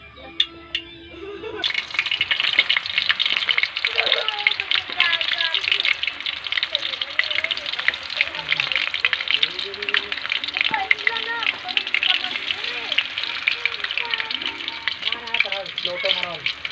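Chicken frying in hot oil, a steady, dense sizzle and crackle that starts after a short quiet moment and carries on throughout, with voices talking over it.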